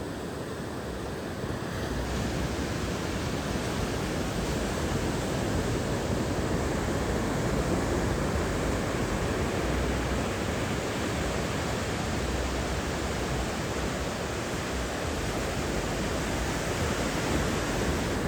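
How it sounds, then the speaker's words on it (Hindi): Steady, loud rush of flowing water at night, a dense unbroken roar with wind-like hiss and no voices over the whole stretch. "आप पानी की इस शोर की या आवाज़ सुनो, कितना मज़ेदार, कितना सुकून आ रहा है"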